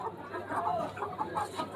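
A Kadaknath chicken clucks at a busy Delhi market, its short repeated calls mixed into steady crowd noise with faint voices around it.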